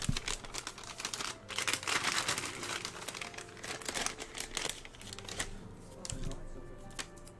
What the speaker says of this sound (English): I know, I'm trying to get a cough drop.